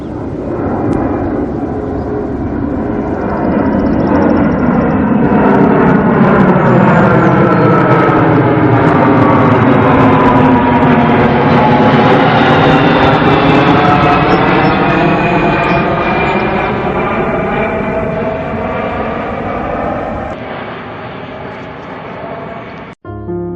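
An aircraft flies over a dam at a state park, a loud, close roar that swells and sweeps in pitch as it passes overhead, then fades away abruptly near the end.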